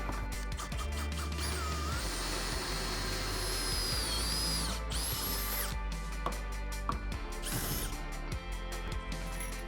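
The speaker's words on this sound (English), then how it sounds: "We're going to go ahead and mount 4 of these holes by hitting them with a long drill bit." Continuous whine of a power drill running a long drill bit, boring mounting holes for a Minn Kota Maxxum trolling motor, with pitch rising and shifting as it bores, close and loud throughout.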